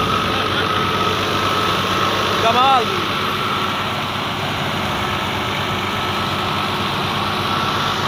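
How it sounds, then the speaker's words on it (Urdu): A Ghazi tractor engine labours steadily under load while pulling a thresher machine, a continuous low rumble with a short tonal whine partway through, and a person talks over it. "چنگی ٹریکٹر چھکدا پیا وے"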